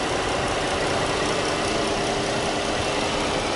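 A 2014 Dodge Charger SXT's 3.6-liter Pentastar V6 with VVT idles in a steady, even hum, a close and moderately loud drone with no voices.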